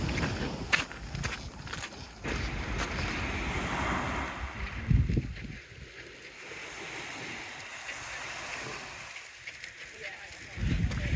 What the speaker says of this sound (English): wind blocker off again, so you should hear the sea a bit better